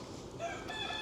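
A young hen clucks and crows in a short, close burst of bird calls over faint farmyard background noise.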